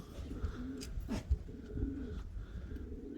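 A flock of young pigeons of a Kahramanmaraş breed returns to the loft, giving soft, repeated cooing calls close by over a low background murmur.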